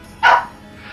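A single short bark from a dog, sharp and close, lasting a fraction of a second before fading into quiet room noise.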